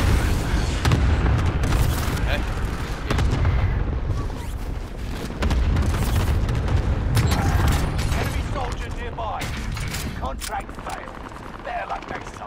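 Airstrike explosions in Call of Duty Warzone Rebirth, a dense run of loud booms and blasts with gunfire-like crackle over about twelve seconds, with voices talking over the barrage.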